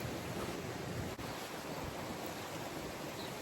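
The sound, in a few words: ocean waves and wind on Caribbean shore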